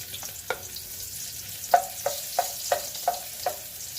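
Garlic hitting a hot pan for escabeche, with a series of soft, evenly spaced tapping and scraping strokes over a quiet background sizzle.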